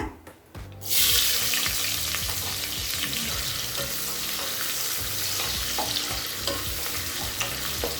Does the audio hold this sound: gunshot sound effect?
no